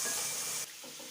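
Chicken sizzles and crackles loudly in a hot pan, the hiss easing a little partway through.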